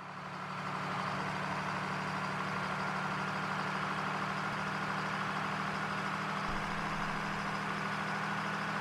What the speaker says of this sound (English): If you've ever wanted to drive some high-speed cars, then play some Airport Simulator 2014.